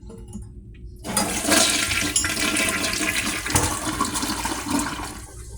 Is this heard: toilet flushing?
yes